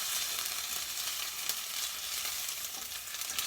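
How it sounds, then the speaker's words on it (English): Oil in a pan fries with red chili peppers over medium heat, giving a steady, close crackling sizzle with small pops throughout and no speech. "we're infusing the oil with the red chili peppers before we add our vegetables."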